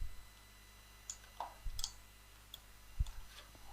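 Several sparse, light computer mouse clicks sound close and dry over a quiet background, spaced irregularly across a few seconds.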